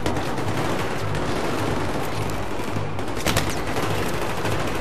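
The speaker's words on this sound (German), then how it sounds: "Blind schießen" Blind gunfire in the video game Battlefield 3: continuous, dense rattling automatic fire, loud and close throughout, with no pauses, over a low rumbling hum.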